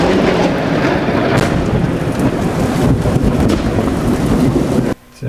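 Heavy rain pours steadily with rolling thunder and gusting wind buffeting the microphone, loud and continuous for several seconds before cutting out abruptly near the end.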